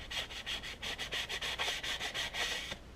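A toy accelerator track, an old set with plastic parts, gets scrubbed clean in quick rhythmic strokes, about a dozen close, rasping rubs in a steady back-and-forth pattern before a brief pause at the end.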